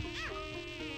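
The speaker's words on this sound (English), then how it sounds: "Fucking mosquitoes!" Mosquitoes whine close by in the Fur Puppies game, a thin, wavering insect buzz that rises and falls in pitch for about a second, with no voices over it.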